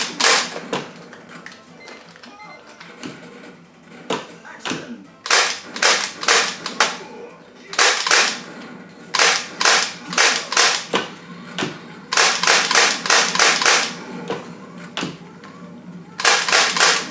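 A Time Crisis Arcade1up light gun with mechanical recoil firing: loud, crisp snapping clacks, sometimes single and sometimes in rapid clusters, repeated across the whole stretch with short pauses between bursts.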